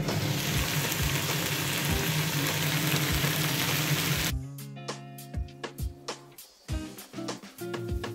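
Onion, ginger, garlic and tomato paste frying in a pan sizzles steadily for about four seconds, then the hiss stops and a run of scraping, stirring clinks of a utensil against the pan follows.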